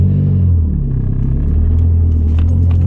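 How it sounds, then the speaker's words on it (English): Cars passing on a busy state road, a loud, continuous low rumble of traffic going by close at hand with no speech. "so let these cars pass"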